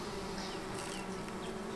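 Honey bees buzzing at a hive in March, a steady, close droning hum that holds evenly throughout with no voices.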